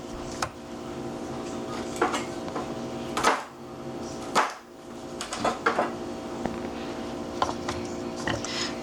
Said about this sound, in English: To help it along a little bit, I'm just going to give it a couple of chops.